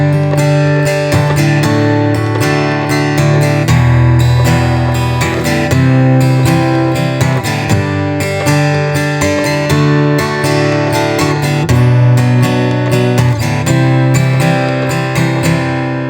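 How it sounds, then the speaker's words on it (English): An acoustic guitar strums the chords of a song loudly and continuously with no vocals, the rhythm driving steadily and the chords ringing fully. "We'll play it one time through, just strumming, no vocals"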